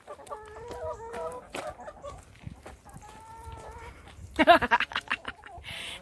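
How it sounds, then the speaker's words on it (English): Backyard homestead hens cluck in short, repeated bursts near the listener, with a louder flurry of squawks toward the end. "These chickens."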